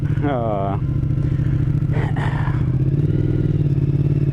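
A 2022 Triumph Speed Twin fitted with a Tec two-into-two exhaust rumbles steadily as it is ridden on a brisk December outing, its engine drone continuous throughout while a rider speaks briefly over it.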